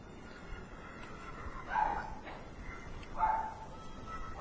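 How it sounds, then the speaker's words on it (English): A neighbor's dog barks twice from some distance, two muffled, moderately faint barks about a second and a half apart over a quiet background. "Sorry for the barking dog."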